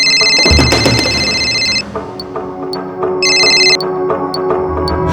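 Telephone ringing unanswered, with loud electronic ring bursts repeating in two separated rings over faint ticking background sounds, close and without voices.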